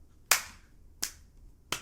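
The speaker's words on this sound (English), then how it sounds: "Let's clap for him" Three sharp, separate claps ring out close by at about one-second intervals, each fading quickly, with no talking.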